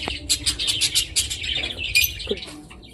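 Rapid, bright chirps and tweets from a pied budgerigar held in the hand, close by, in quick bursts with short pauses.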